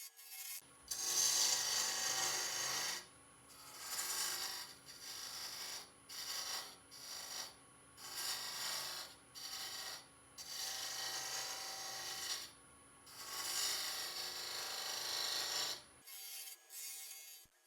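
A spindle gouge cuts curly oak turned on a wood lathe, giving repeated bursts of rasping, scraping cuts about a second or two long, separated by short pauses over a faint steady motor hum, close and fairly loud with no talk.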